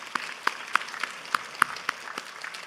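A congregation in a church service claps, a sparse, quiet series of distinct individual claps at a moderate irregular pace, heard from a distance.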